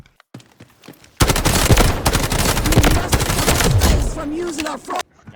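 A CI19 rifle fitted with only a scope and laser fires in the video game Delta Force, letting out a long, dense burst of rapid automatic shots up close that cuts off abruptly, after a few scattered quieter pops.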